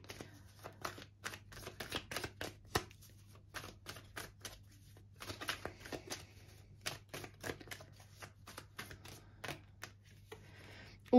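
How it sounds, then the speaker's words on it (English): Tarot cards are shuffled close up in a quiet room, with many crisp, quick riffling slaps and flicks arriving in irregular bursts and short pauses between them. "Let's get some tarot cards out for you."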